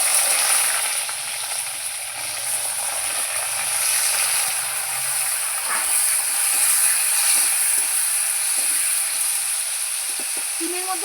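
Flat beans dropped into hot oil tempered with dried chilli give a steady, loud sizzling hiss close by, continuous throughout while cooking outdoors, with faint clatter of stirring.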